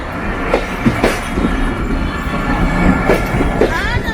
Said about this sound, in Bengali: প্রতিনিয়তই কিন্তু এই আন্ডারপাসের ওপর দিয়ে যাতায়াত করছে